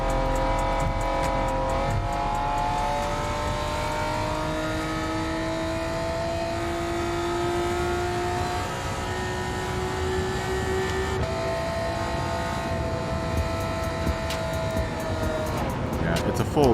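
A Honda VTEC car engine in Gran Turismo 7 howls at high revs, climbing in pitch through the gears with brief shift dips, loud and continuous over a talking voice.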